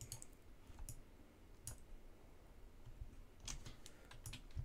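A few sharp, quiet clicks from a computer mouse while running a script in Roblox Studio, isolated taps spaced over a few seconds against a faint background hiss.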